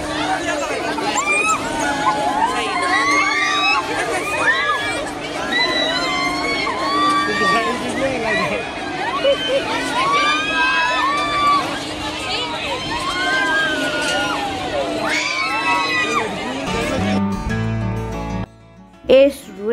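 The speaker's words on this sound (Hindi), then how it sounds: "जैसे ही झूला स्टार्ट हुआ है हमारी चीखें भी स्टार्ट हो गई हैं।" Riders on an amusement park swing ride shriek and scream continuously over a dense crowd babble and mechanical rumble, with overlapping yells throughout and a burst of different noise near the end.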